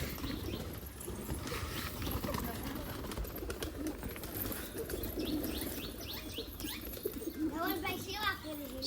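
Pigeons fed scattered grain coo softly amid fluttering wings and light chirps, while people talk nearby over the birds.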